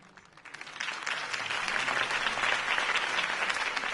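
Crowd applause rising after a campaign speech in a Batman video game scene, a dense wash of clapping that swells from quiet to steady and sustained, heard alone without voices.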